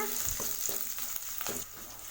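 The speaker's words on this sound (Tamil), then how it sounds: "பச்சை மிளகாய் இது கூட சேர்த்து வதக்கி விட்டுக்கோங்க." Green chillies sautéing in a pan as the base for an anchovy fish curry, a steady close sizzle with a few brief scraping stirs and no voices.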